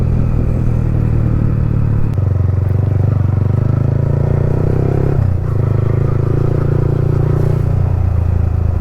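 A Yamaha MT-15 motorcycle exhaust drones loud and steady at close range, a low buzzing rumble that holds through with one brief dip in pitch midway, with no talking.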